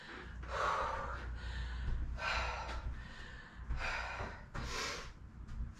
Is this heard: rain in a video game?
no